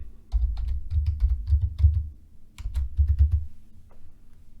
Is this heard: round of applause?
no